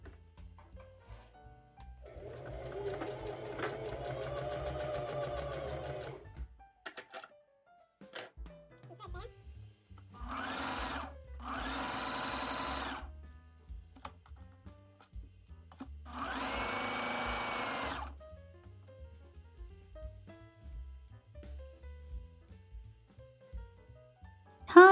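A sewing machine hems the bottom of a 1960s Simplicity 4950 skirt in several short runs of steady whirring stitching, separated by quiet pauses and light handling noises.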